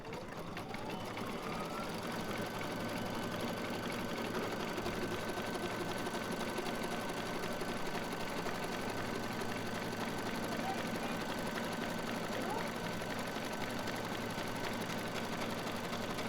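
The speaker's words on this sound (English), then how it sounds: "So that's going to stitch a rectangle on top here." A sewing machine stitches a rectangle through two layers of leather, giving a steady, even mechanical whir that runs unbroken from start to finish with no voices.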